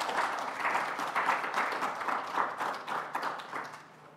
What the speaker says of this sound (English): let's give a great round of applause to Nick Dimitrov.